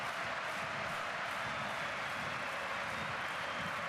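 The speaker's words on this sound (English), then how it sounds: "Listen to the crowd here at the Bargain Stadium." Football crowd at the Bargain Stadium during a Denmark versus Portugal match, a steady distant roar of massed voices and chatter that holds constant throughout.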